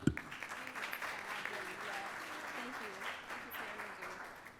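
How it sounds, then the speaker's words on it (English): Steady applause from a club luncheon audience at a fashion-themed talk, fairly faint and continuous, with a voice speaking over it. "give her another round of applause for all that energy"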